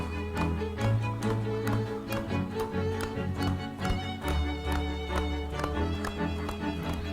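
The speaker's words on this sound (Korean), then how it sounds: "달걀 박수입니다. 손바닥을 오므려 박수" A group doing a health-clap exercise with cupped palms, making hollow, rhythmic claps in steady unison over background music.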